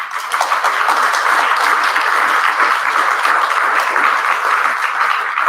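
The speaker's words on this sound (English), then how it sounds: "So round of applause for them." Sustained, dense applause from a seated audience at a TeachMeet History teacher gathering, many hands clapping loudly and evenly for several seconds without pause or speech.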